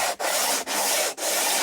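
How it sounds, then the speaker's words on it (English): Hand sanding of a wooden guitar neck, a loud, steady abrasive rasp in long strokes, broken by three brief pauses where the paper is lifted and reset. No voices. "giving it a quick sand"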